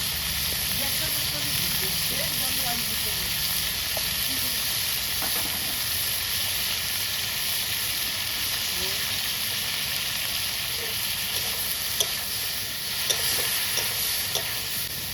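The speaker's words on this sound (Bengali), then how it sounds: "খুব ভালো করে গরম হয়ে গেছে। এবার মাছটা দিয়ে দিব, চিংড়ি মাছ।" Shrimp seasoned with salt and turmeric fry in hot oil, giving a continuous loud hissing sizzle that holds steady for about fifteen seconds, with occasional faint clicks of stirring.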